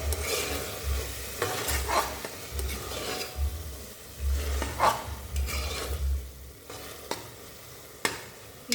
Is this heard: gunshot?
no